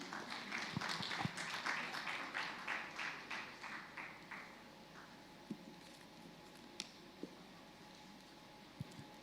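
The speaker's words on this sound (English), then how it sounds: "A round of applause for Madam Codex," A round of applause at a health investment forum: scattered clapping from the audience, fairly faint and distant, fading out over the first few seconds into quiet room tone with a few isolated taps.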